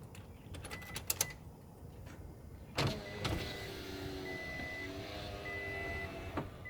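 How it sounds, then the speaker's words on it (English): Power windows on a second-generation Toyota Tacoma rolling down: a few clicks and a thump, then a steady electric motor whine for about three seconds, close and fairly quiet, with a faint beeping chime over it. "the first thing that we need to do is roll the windows down."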